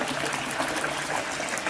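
Fresh water pours steadily into a setup for re-running mining tailings, a dense, bright gushing splash that stays close and constant throughout, with no voices.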